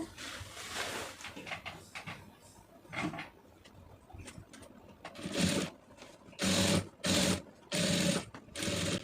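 A sewing machine stitches along the piping edge of a chudidar in short bursts, some brief and scattered, then several longer runs of rapid, even whirring separated by pauses.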